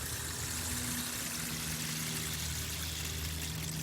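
A painted gourd instrument giving a soft, watery pouring and trickling sound, continuous and close, fairly quiet, with a faint low hum beneath and no speech.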